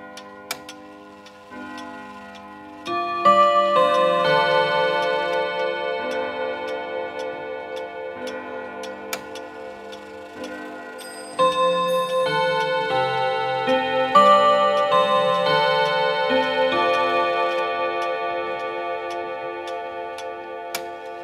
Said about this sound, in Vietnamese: cái âm thanh rất cung bậc của một chiếc đồng hồ Odo 30